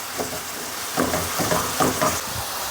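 Ground beef and diced onion fry in a pan for a casserole, a steady close sizzle broken by several soft scraping, mashing strokes as the meat is broken up, with no talking.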